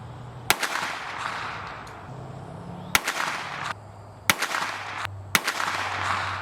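A B&T USW Glock chassis pistol fires five sharp, loud shots at irregular intervals, with short gaps and quiet ambience between them.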